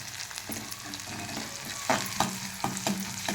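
Onions with cumin, coriander seeds and ginger-garlic paste frying in oil in a pan give a close, continuous sizzle, broken by several scraping stirs of a spoon that grow louder toward the end.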